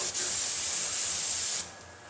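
A spray gun mists glaze across a door in a steady, close hiss lasting about a second and a half before cutting off, leaving only a faint room tone.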